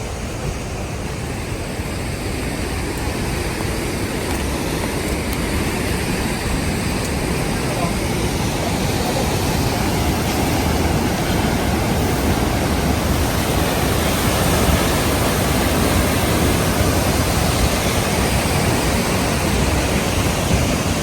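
Rushing water at Maneri Dam roars as a dense, unbroken wall of noise, loud and close throughout, with no pauses or changes in intensity.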